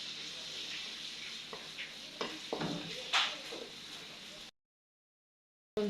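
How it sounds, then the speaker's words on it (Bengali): Chopped onions frying in hot oil give a steady close sizzle with scattered scraping and stirring knocks, then the sound cuts off abruptly near the end. "পেঁয়াজগুলো ভাজা ভাজা করে নেব।"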